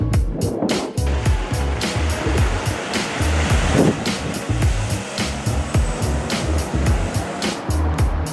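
The River Sal, flooded and bursting its banks after Storm Christoph, makes a loud, steady roar of rushing water that continues without a break throughout.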